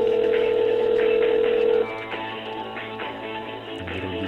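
A telephone ringback tone sounds while calling a lottery winner, a steady loud tone for nearly two seconds that then cuts off, leaving quieter background noise.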